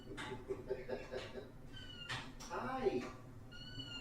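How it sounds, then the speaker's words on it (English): A house cat meows a few times indoors, with short, fairly faint calls that rise over soft background talk from a person nearby. "Oh, you hear the cat? There she is."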